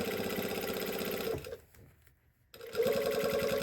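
Sewing machine stitching a jeans hem, a steady rapid mechanical whir that stops briefly in the middle, then starts up again louder and close by.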